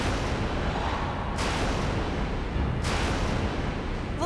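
A fireworks display at an outdoor celebration: a continuous, dense barrage of loud rumbling booms and crackles that fills the whole stretch with no pauses and no voices.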